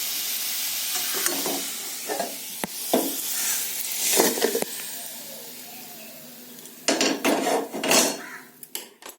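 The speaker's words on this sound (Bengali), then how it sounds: "আমি আলুটাকে লাল লাল করে ভেজে নেব" Potatoes sizzle steadily in a pan while a spoon scrapes and stirs in several bursts, close and fairly loud.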